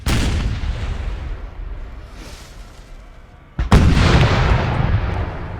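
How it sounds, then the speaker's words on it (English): Cannon artillery fire from a Napoleon: Total War battle, booming in heavy rolling volleys with a dense low rumble, easing off before a sharp, louder salvo near the end that keeps thundering. "Some skilled fire here by the cannon crew."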